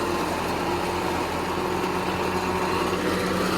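A farm tractor engine runs steadily and loudly in a maize field during fodder work, a constant mechanical drone with no clear rise or fall across the short span.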